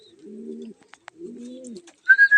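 Racing pigeons cooing up close before a derby, two soft low coos with a couple of small clicks between, then a few brighter bird chirps at the end.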